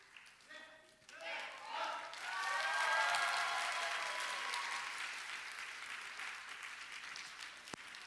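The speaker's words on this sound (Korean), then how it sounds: "멋진 무대 다시 한번 뜨거운 박수로 맞이해 주시길 바랍니다" A church congregation at a missions sending service applauds after a stage performance, a swell of clapping that builds, holds strongly and slowly fades, following faint singing at the start.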